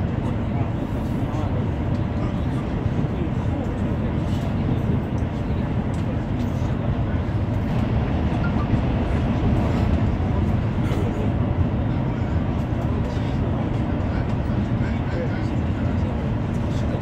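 Steady, loud rumbling drone inside a moving Chinese high-speed train carriage, continuous broadband rushing noise with faint voices beneath.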